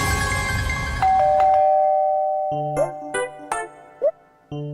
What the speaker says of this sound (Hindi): दरवाजे पे डोरबेल बज रही है, दरवाजा खोलो।